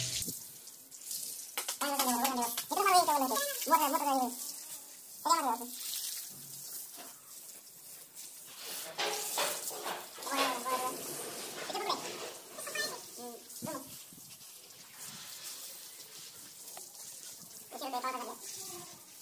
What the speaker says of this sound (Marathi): बघा आता इथे पाणी मारायचे